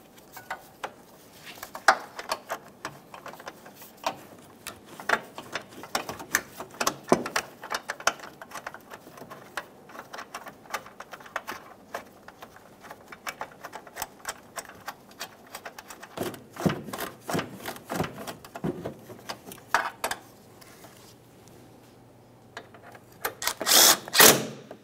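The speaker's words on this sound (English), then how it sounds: "Let's tighten the 13mm bolt, and then, like I said, the other 3 10mm headed bolts." Ratchet tightening a 13mm bolt on a headlight bracket of a 2011-2021 Jeep Grand Cherokee, giving repeated quick clicking bursts of varying length, close and moderately loud, with no talking.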